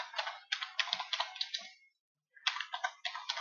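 Rapid clicking of keys on a computer keyboard, close and clear, arriving in two quick bursts separated by a brief pause.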